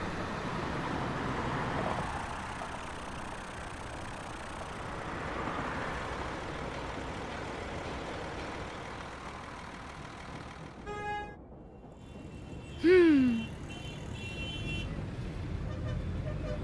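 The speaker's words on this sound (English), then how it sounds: "Those cars sound like they're getting angry with each other." Steady road traffic in the video game Car City World rumbles throughout, with a couple of brief car horn honks near the end, the second one louder and bending downward.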